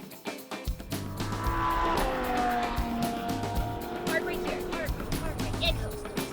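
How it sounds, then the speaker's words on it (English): A Ferrari supercar on a race track at Speed Vegas, its engine droning loud and close with rising and falling pitch and a brief tire squeal as it accelerates. "Why not take the Ferrari out for a spin to end the day?"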